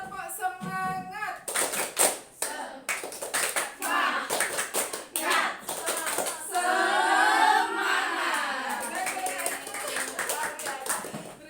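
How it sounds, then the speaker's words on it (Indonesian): A group of teachers performs a rhythmic spirit-building clap pattern, a fast sequence of crisp claps mixed with voices chanting along, followed by a burst of cheering and talk. "kita tepuk semangat dulu, tepuk semangat."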